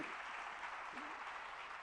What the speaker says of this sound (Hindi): जरा जोरदार तालियां बजाइएगा।